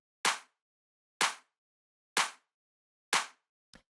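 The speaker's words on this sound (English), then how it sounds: "So what this clap is it's just kind of like this nice punchy sort of clap sample." A punchy, dry clap sample for a tech house track hits four times at an even pace, then a fifth, shorter hit follows, each sharp and short, with silence between them.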